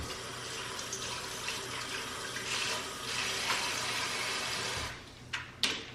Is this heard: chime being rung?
no